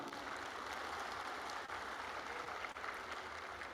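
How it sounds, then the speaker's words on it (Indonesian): Sustained applause from a crowd of officials at a city government coordination meeting in Makassar, a steady dense clapping texture filling the hall throughout with no voices over it. "tepuk tangan bapak-bapak dari kelurahan"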